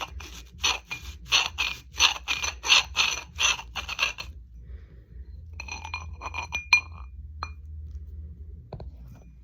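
Dried bay leaves being ground in a grinder, a loud, rapid clattering rattle in bursts during the first seconds, then a lighter, intermittent clinking and scraping.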